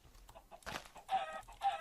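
A Minecraft chicken gives a few short, close clucks in quick succession, with small soft game noises between them.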